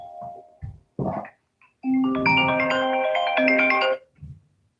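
An iPhone rings with a bright melodic ringtone, heard up close as a sustained chime of several seconds, preceded and followed by brief muffled sounds.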